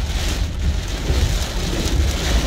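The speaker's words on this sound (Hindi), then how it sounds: "बारिश की वजह से ये कितनी यानी मौसलाधार बारिश है" Heavy, steady torrential downpour from Cyclone Shaheen in Muscat, Oman, roaring continuously, dense and close with a deep rumble underneath; no voices.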